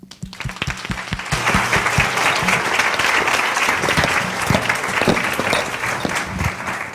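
Sustained applause from a conference audience welcoming a keynote speaker, dense clapping that swells quickly and holds steady for several seconds with faint voices mixed in.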